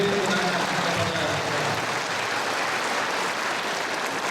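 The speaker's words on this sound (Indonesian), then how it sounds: "Beri tepuk tangan kepada" Loud, dense applause from a large crowd at an Easter church gathering in the village of Long Bemang, a continuous roar of clapping from start to finish.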